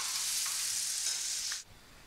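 Ground coconut masala is poured into a pan of cooked drumsticks, setting off a loud, bright sizzle that holds for about a second and a half, then drops off abruptly to quiet.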